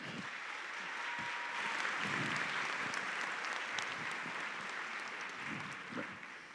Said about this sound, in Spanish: pedirles un aplauso de bienvenida para Natalia y para Diana